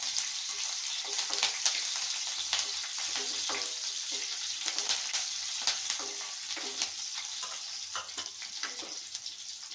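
Green chillies and curry leaves frying in hot oil for a murmura upma, giving a steady close crackling sizzle with scattered sharper pops and light stirring throughout.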